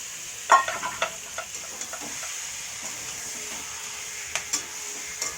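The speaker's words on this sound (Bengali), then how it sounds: "এদিকে দেখো চিকেন এখনও কষানো চলছে" Chicken being sautéed in a pan, with a steady soft sizzle broken by intermittent clinks and scrapes of stirring, close and moderately quiet.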